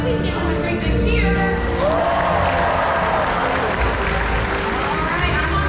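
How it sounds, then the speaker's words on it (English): A large audience in a stadium cheers and applauds at a Sea World killer whale show, a dense, sustained roar of crowd noise with voices rising through it and an announcer's amplified voice faintly mixed in. "So when you see Makayo, please give him a great big cheer."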